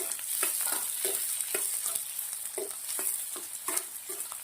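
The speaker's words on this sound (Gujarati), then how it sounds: "હું મશરૂમ નાખી દઉં છું।" Mushrooms sizzling and frying in ghee with onion and capsicum, a steady bright hiss broken by repeated soft thuds and scrapes of stirring, close and moderately loud with no talk.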